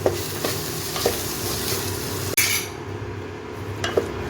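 Three spice powders are stirred into a frying pan for egg rice, with steady sizzling cut by regular clinks and scrapes of the spoon against the metal, plus one sharper knock midway.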